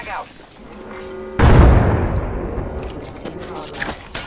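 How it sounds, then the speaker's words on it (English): Apex Legends gunfire, likely a Wingman revolver, erupts as a sudden loud burst midway, followed by further scattered shots and game sounds, with in-game callouts heard before it. "Opening fire on the enemy."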